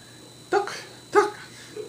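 Dogs barking outdoors, two sharp barks about half a second apart, fairly close and clear over a quiet background, with no talking.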